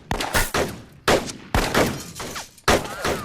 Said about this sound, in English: A quick, violent gun battle follows.